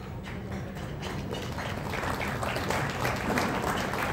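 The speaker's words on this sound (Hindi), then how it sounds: "जोरदार तालियां" Clapping for an arriving guest at an awards function in a Delhi hotel, a fairly faint, muffled patter of applause from a gathered crowd under a noisy room tone, building slightly over a few seconds.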